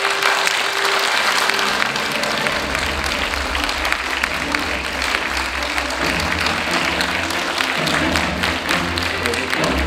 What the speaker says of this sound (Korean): 여러분 뜨거운 박수를 부탁드리겠습니다